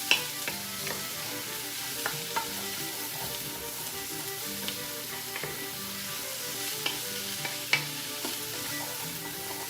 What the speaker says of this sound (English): We'll let this saute for just a minute.